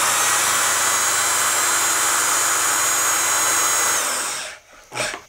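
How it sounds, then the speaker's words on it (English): A high-torque power drill driving a screw into tiny house trim whines loudly and steadily for several seconds, then stops abruptly, followed by a couple of brief knocks. "This is also a high torque drill, so it's really going to drive this in."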